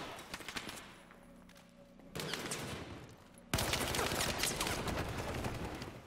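Rapid automatic gunfire from a Battlefield 4 8v8 Conquest match including an MG4 light machine gun, dense bursts of shots that swell louder in two steps, with intense sustained firing filling the latter half.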